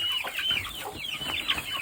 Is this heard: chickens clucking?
yes